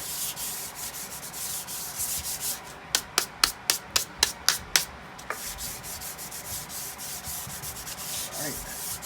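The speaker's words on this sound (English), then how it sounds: "I've got a block for some sanding block here just to make sure that I'm getting a nice flat top on this guitar here" A sanding block rubs with the grain across a Telecaster kit guitar body coated in sanding sealer, a steady raspy scrubbing broken by a run of sharp, even strokes in the middle, close and fairly quiet.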